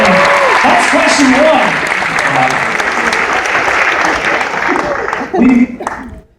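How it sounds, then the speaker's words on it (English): A cruise ship audience at a Newlywed Game on Liberty of the Seas breaks into a thick round of applause that gradually thins out, with voices and chatter mixed in beneath it. "Give him a round of applause"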